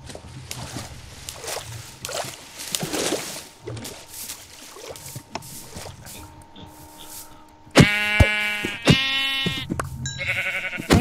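Sheep bleat in a survival video game, a couple of loud, wavering cries near the end after quieter clattering game sounds and background noise.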